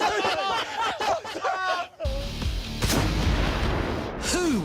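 A World War 1 mortar fired outdoors gives a deep, loud boom that rolls on as a long rumble, while several people shout and chatter excitedly around it.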